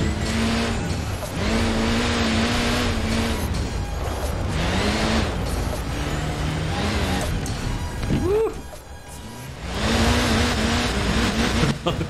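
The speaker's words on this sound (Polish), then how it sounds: "Posłuchajcie sobie, jak to ze środka brzmi." Peugeot 207 rally car engine in Forza Horizon 4, heard from the cockpit, roars loudly and continuously through high revs with rising and falling gear-change sweeps and a brief dip before surging again.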